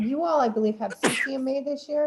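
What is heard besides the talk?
sneeze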